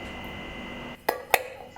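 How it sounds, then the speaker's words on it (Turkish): A pot and a glass bowl are handled in a kitchen, giving two quick, bright clinks of glass against metal close to the microphone after a moment of quiet room hum. Nobody speaks. "uygun bir tencereyi önüme alıp üzerine oturtturabileceğim bir cam kase ya da herhangi bir kaseyi alıyorum"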